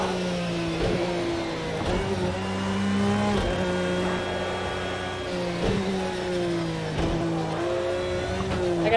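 A race car engine revving through gear changes at Knockhill circuit in a racing video game, repeated throttle blips and downshifts rising and falling steadily, close and loud with no talk.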